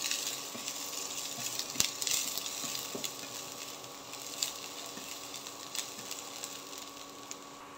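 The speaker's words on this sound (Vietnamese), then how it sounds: "Dầu nóng rồi mình cho cái hành băm vô. Rồi mình xào thử cái hành băm." Minced shallots stir-fried in a tablespoon of hot cooking oil in a pan for a vegetarian dish, giving a steady close sizzle with occasional scrapes and taps of the utensil, no voices.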